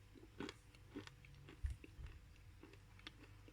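Chewing a Karakum clay ball made with kaolin clay, with a series of soft, dull crunches and bites, close and quiet, in an irregular rhythm.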